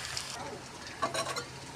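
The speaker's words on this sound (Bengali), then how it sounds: "তেলের মধ্যে দিয়ে দিচ্ছি আদা কুচি। ভালো করে তেলের সঙ্গে মিশিয়ে আদাটাকে ভেজে নিই।" Chopped ginger fries in hot oil with a soft sizzle, and a few brief clinks and scrapes of stirring come near the middle, all fairly quiet.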